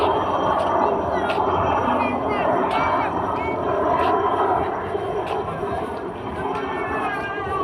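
An aircraft drones overhead in Goa, a steady broad engine roar that holds throughout and dips slightly toward the end, with people chattering beneath it.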